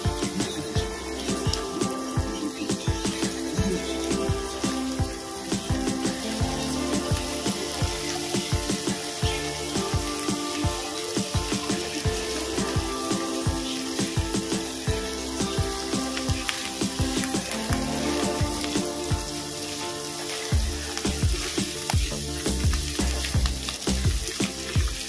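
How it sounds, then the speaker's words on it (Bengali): Onion frying in a pan with ginger, garlic and green chili paste for a snakehead fish curry, giving a steady, close sizzle that runs unbroken for about 25 seconds. "এখানে দেবো আদা, রসুন, কাঁচা লঙ্কা বাটা। এটাও কয়েক সেকেন্ড ভেজে নেব।"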